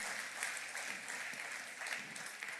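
A church congregation applauds during a sermon, a steady wash of many hands clapping heard faintly and at a distance, continuous throughout.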